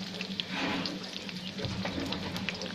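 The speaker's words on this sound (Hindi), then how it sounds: "इसे चला लेंगे, लाल करना है हमें प्याज को" Onions frying in oil for a dhaba-style fish dish, giving a steady sizzle with scraping from stirring, close and continuous, with a voice talking over it.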